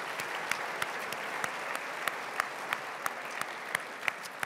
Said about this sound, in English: Let's give a big round of applause for all the Category 5 finalists.